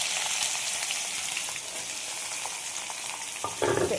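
Steady, dense sizzling of vegetables frying in a hot wok for Maggi noodles, a loud continuous crackle with a brief stirring scrape near the end.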